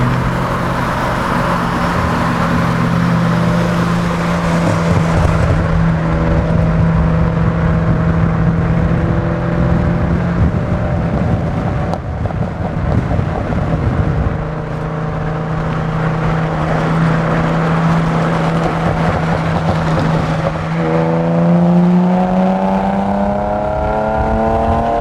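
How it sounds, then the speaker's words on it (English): Car driving fast with its exhaust fallen off, a loud, steady engine drone with shifting pitch that rises and falls as it accelerates, close and continuous for the whole stretch with no talking. "My exhaust fell off the car again."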